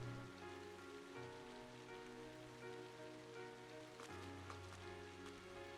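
Soft, steady patter of rain falling in a video game, The Legend of Heroes: Trails of Cold Steel, faint and continuous, over a low sustained musical drone.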